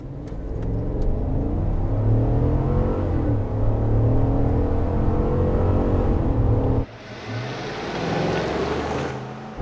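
A 2021 Chevy Tahoe High Country with a 6.2-liter V8 accelerates hard from a standstill without launch control, the engine note climbing as a loud, sustained roar that drops abruptly at a gear change before rising again.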